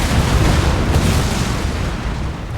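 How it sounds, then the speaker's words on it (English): Artillery bombardment in the Napoleon Total War battlefield, a dense and continuous roar of loud, overlapping cannon booms and rumbling blasts with no pause. "He tries to bombard my artillery"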